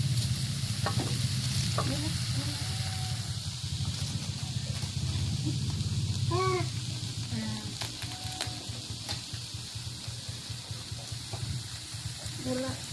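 Galider dough snacks sizzle in hot oil while being stirred, giving a continuous close frying crackle with scraping stirs and a voice speaking over it.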